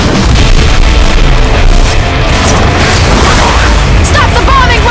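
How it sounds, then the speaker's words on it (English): Bombing run explosions in the Left 4 Dead 2 intro, a loud dense wall of booms and rumbling blasts filling the whole stretch, with shouting voices mixed in. "Stop the bombing run!"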